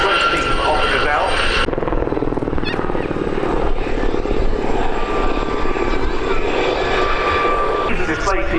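A Gazelle helicopter from a display team performs at the Abingdon Air and Country Show, its rotor and turbine roaring steadily with a pulsing chop and shifting pitch as it manoeuvres nearby, loud and continuous with a commentator's voice over it.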